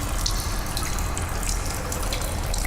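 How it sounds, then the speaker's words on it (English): Water streaming and splashing steadily from an overflowing sink onto a polished floor in the sci-fi horror game Stasis, a continuous close, even wash of running liquid with no voices. "Liquid from the overflowing sink is splashed onto the floor, pooling on the polished floor"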